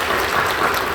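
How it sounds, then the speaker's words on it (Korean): Church congregation applause during a worship service: a brief, loud, dense burst of clapping with no voices over it. "박수로 격려해 주시기 바랍니다."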